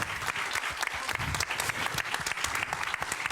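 Audience at a film screening event applauding steadily, a dense, close wash of clapping hands from a sizeable crowd throughout.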